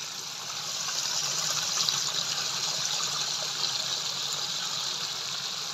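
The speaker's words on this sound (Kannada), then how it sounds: "ನಾಲೆನಲ್ಲಿ ನೀರು ಹರಿತಾ ಇದೆ." Water runs steadily along an irrigation canal beside farmland near a village, a continuous close rushing wash with no voices.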